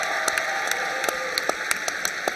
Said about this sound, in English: give a roaring round of applause and cheer for Mims Baptist Church and their staff